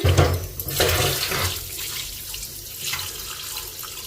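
Meat being rinsed with water in a basin, splashing and running water loud at the start, then easing into a steadier, softer wash with occasional sloshes.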